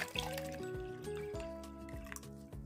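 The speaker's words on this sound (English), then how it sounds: "I'm going to try to carefully pour this" Liquid is poured slowly into a 2-liter bottle for a home hydroponic garden, making a faint, gurgling trickle with a steadily rising fill tone.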